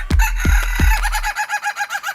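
A rooster crows several times in a row, loud and close, its harsh rising call followed by a series of rhythmic clucks that taper off at the end.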